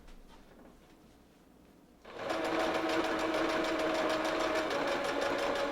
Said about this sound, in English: Now we can sew this right there.